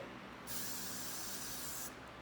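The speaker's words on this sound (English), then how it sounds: "Then we'll do a final spray" Hairspray is sprayed onto a competition dancer's hair in one steady, loud hiss lasting about a second and a half, with no talk over it.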